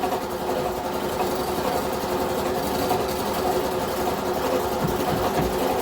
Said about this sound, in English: Come on, compressor, go off.